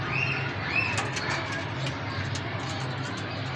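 A flying-hobby pigeon coos softly in the foreground, with a faint high bird call or two and a steady low background hum, no talking.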